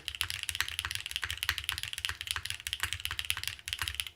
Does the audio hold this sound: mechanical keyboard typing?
yes